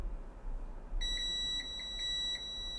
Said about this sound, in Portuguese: Bobina bipa, porque ela é resistência baixa.